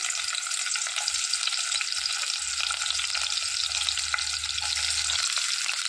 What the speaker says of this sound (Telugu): గిన్నె పెట్టుకొని కొద్దిగా ఆయిల్ వేసుకున్నాము అందులోకి ఉల్లిపాయలు